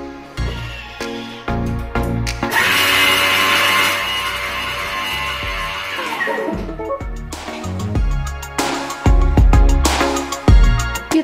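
A kitchen blender runs at speed 8 chopping fresh parsley, a loud, steady whir lasting a few seconds, with clunks and handling noises before and after.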